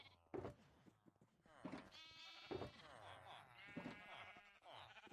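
Sheep in Minecraft bleat several times in short, wavering calls spaced a second or so apart, quiet and mixed with a person talking.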